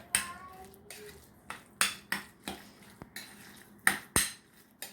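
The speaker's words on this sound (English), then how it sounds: "Okay, gonna stir it." A spoon stirs chopped ingredients in a cooking pot, making a series of sharp clinks and scrapes at an uneven rhythm, close by and moderately loud with no talking.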